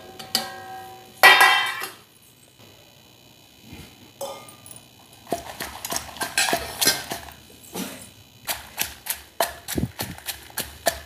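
Dried red chillies being ground in a stone mortar for a bottle gourd peel chutney produce irregular hard knocks, clicks and gritty scrapes, some sharp and close, separated by short quiet gaps.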